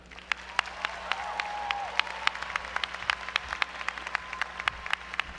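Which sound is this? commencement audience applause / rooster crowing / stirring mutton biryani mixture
commencement audience applause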